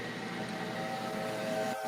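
A train whistle from a train video game, a sustained steady multi-tone blast held for about two seconds at moderate volume over faint rail background noise, with no voices.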